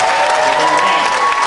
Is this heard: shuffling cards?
no